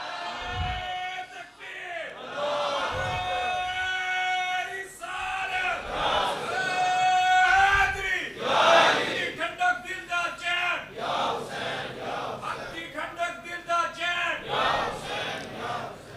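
A crowd loudly chants a religious slogan (naara) in unison at an Islamic sermon gathering, voices rising in repeated surges with a leading call and massed response, close and full throughout.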